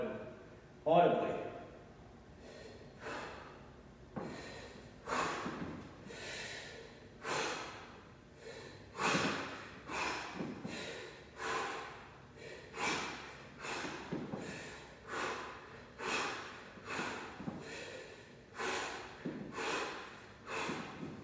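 Audible snatch-lift breathing cycle: a long run of sharp, rhythmic exhale-and-inhale bursts, close and fairly loud, repeating roughly every second with no talking.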